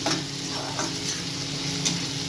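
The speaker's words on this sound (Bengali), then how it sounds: "আদা পেঁয়াজ রসুন আর টমেটো এগুলো সব একসাথে আমি ভালো করে ভেজে নেবো" Ginger, onion, garlic and tomato fry in a pan with chili powder, Kashmiri chili powder and turmeric for a homestyle rohu fish curry, giving a steady close sizzle with faint stirring scrapes throughout.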